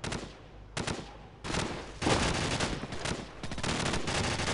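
Sustained covering gunfire in Call of Duty 4, dense overlapping bursts of automatic rifle fire in rapid succession, loud and close, continuing without pause and with no voices.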